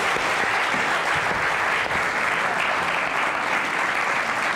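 A television studio audience on a 1998 Turkish talk show bursts into loud, sustained applause, a dense, even wash of clapping that carries on without a break.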